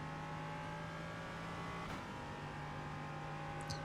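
Ligier JS P320 LMP3 prototype engine held at full throttle in the iRacing sim, a steady loud drone with constant tone and no breaks, racing flat out through a corner.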